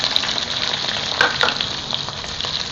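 Diced onion sautéing in oil with chopped garlic and ginger, a loud, continuous close-up sizzle with a couple of soft stirring knocks.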